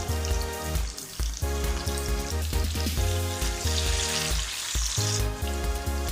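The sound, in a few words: chicken pieces sizzling in pan for shawarma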